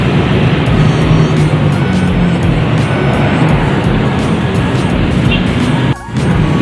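A Hino RN 285 bus rushes past on a city street in a loud, steady roar of engine and road noise that holds almost the whole time before briefly dipping near the end.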